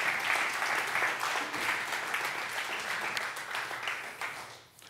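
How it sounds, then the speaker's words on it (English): A church congregation claps together in praise during a sermon, a dense sustained round of hand claps that fills the room steadily before tapering off near the end. "Come on, give him a hand clap of praise."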